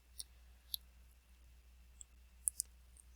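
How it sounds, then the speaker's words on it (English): A single computer keyboard key is pressed, giving a few small, sharp clicks at close range in a quiet room, with nothing else heard. "I'll hit escape on the keyboard."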